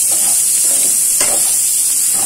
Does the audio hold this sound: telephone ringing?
no